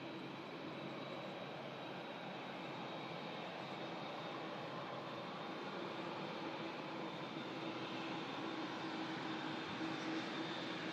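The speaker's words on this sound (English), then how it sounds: "Turkish is about to enter the active departure runway, the A321 for Istanbul." A Turkish Airlines A321 jet at Manchester Airport rolls for departure, its engines producing a steady, broad roar heard from a distance, faint and even throughout with no voices.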